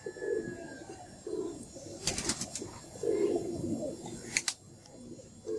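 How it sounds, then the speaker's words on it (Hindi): A Lagin pigeon bought for breeding gives soft low coos in several short bouts, close by, with faint voices, a few sharp clicks and light background noise. "एक 1000 रुपये का मेरा भाई ये कबूतर ख़रीदा है"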